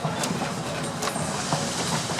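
A train pulled by steam locomotive 110 on the Hill City–Keystone line, South Dakota, rolls past with a continuous rumble and rhythmic clacking of wheels over rail joints, fairly loud and close.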